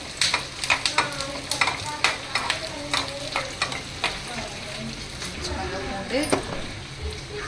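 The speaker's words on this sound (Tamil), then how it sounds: "பூண்டு வதங்கிடுச்சு" Garlic sautés in a pan for a Kongu-style Nallampatti chicken tempering, a steady sizzle broken by repeated scrapes and stirring clinks, with a voice talking over it.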